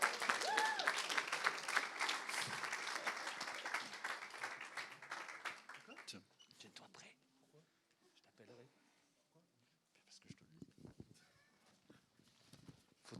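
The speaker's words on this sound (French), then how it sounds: "Je vous propose de l'accueillir sous un tonnerre d'applaudissements." A church congregation at a Sunday service breaks into loud sustained applause that fades after several seconds, followed by quieter scattered claps and room noise.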